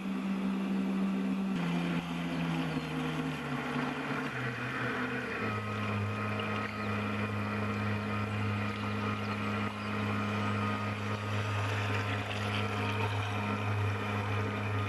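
An upgraded boat motor runs at just over half throttle, a steady droning hum that dips slightly in pitch early on and then holds an even tone.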